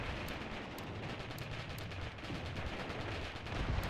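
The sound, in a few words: artillery high explosive shells impacting in a video game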